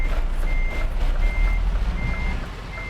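Truck reversing alarm in Euro Truck Simulator 2: a steady series of evenly spaced high beeps, about five in under three seconds, over a low idling diesel rumble.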